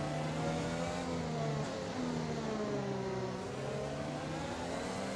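Formula 1 car engine in the F1 2021 racing video game, fresh engine: a faint, continuous high-pitched engine whine that rises and falls as it revs, heard alone without talk.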